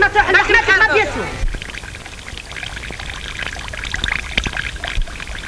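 Water pours from a water clock in a 1937 film, a loud gurgling stream at first, then thinning to faint trickles and drips as it runs out.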